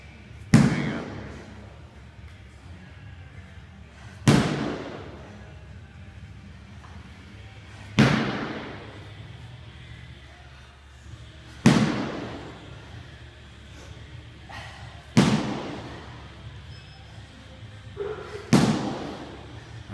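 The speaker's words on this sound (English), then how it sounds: "Doing slams, slam ball." A slam ball is hurled against the floor during a workout, six heavy booming impacts at a steady pace of roughly one every three and a half seconds, each with a short ringing decay, loud and close.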